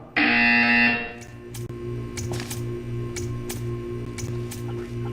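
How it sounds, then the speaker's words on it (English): A buzzer sounds in the video game Portal 2, a loud harsh electronic blare lasting about a second, followed by quieter rhythmic clicking and mechanical hum. "You will hear a buzzer. When you hear the buzzer, stare at the art."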